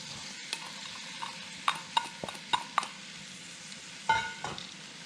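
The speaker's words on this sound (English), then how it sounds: "I'll be adding half a sliced onion" Half a sliced onion frying in a pan for German goulash, stirred now and then. A soft, steady sizzle sits under close spoon scrapes and taps, with no talking.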